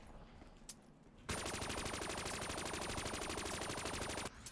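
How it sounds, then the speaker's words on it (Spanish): Gunfire in a zombies custom map video game: after a quiet moment, a sustained, loud burst of rapid automatic shots rattles on for about three seconds, then stops abruptly. "Toma, Ari, un disparo para ti. ¡Pum!"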